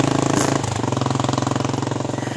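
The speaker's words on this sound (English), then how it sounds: "I like motorcycles, but anyway," A motorcycle passing outside, its loud, rapidly pulsing engine putting out a steady throbbing beat that shifts pitch partway through, with no speech over it.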